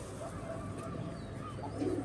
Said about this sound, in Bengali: এটা ফুল ভাইব্রেশনের একটা কবুতর